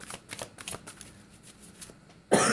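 A deck of tarot cards being shuffled by hand nearby, a series of quick riffling bursts with soft flicks in between, ending in a sudden louder rustle.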